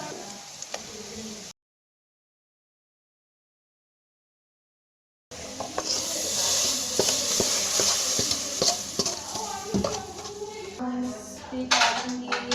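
Onion, garlic and crushed red chillies frying as a tadka for kadhi pakora, a steady close sizzle broken by a silent gap, with utensil clinks and stirring on top and no talking.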